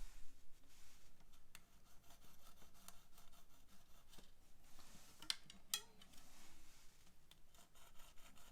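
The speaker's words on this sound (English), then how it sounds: "take your string, your abrasive cord, and hit those slots" An abrasive cord is drawn back and forth through the nut slots of a guitar, making a faint, steady, close rasping rub with a few brief sharper scrapes, and no voices.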